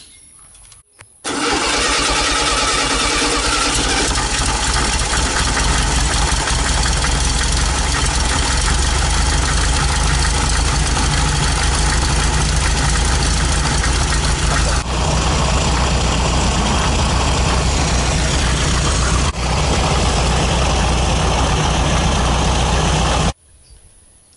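Twin-carburetor air-cooled VW Beetle engine being balanced, running at a steady, loud idle close by for over twenty seconds with a continuous rumbling drone and a few slight changes in tone, no talking.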